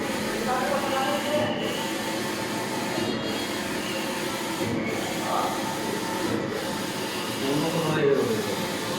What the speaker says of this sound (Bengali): দেখেন কিভাবে প্রিন্টিং করা হয়, ডিজিটাল প্রিন্ট।